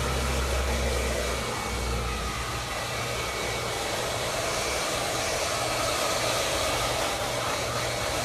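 Hair dryer blasting a short layered bob haircut, a loud, steady roaring whoosh running unbroken for several seconds.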